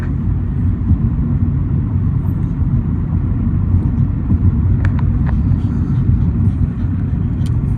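Steady low rumble of a car interior on the road, constant engine and tyre noise with a few faint ticks and clicks.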